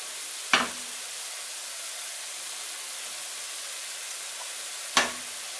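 Browned meat sizzles steadily in a hot pan as tomato paste is stirred in, a constant frying hiss broken by two sharp clacks of the spoon against the pan.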